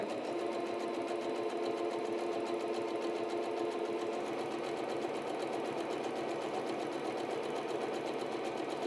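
A sewing machine runs steadily along a fabric edge, a continuous, even whirring hum with a rapid needle rattle, close and moderately quiet, holding its pace throughout with no talk.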